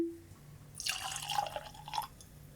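Wild Turkey Longbranch bourbon is poured into a glass, a faint soft trickle and splash of liquid lasting under two seconds in a quiet room.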